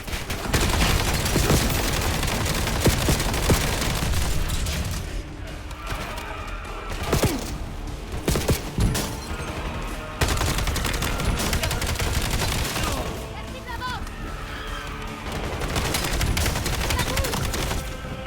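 Heavy automatic gunfire from Call of Duty Black Ops 7 rattles in long, loud bursts during a combat sequence, with thuds, impacts and occasional voices mixed into the dense battle noise.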